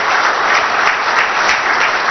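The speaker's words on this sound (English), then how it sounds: "Please, a big round of applause for His Excellency." Audience in a full conference room applauding a visiting dignitary, a dense, steady burst of clapping from many hands, loud and close throughout.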